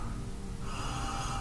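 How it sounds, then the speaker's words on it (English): A close, quiet inhale through the nose over a glass of absinthe, a soft breathy sniff lasting about a second and a half against a still room. "So let's take a little sniff,"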